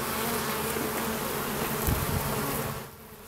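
Dense buzzing of many honey bees fills the air, a continuous droning hum close by, fading slightly at the end.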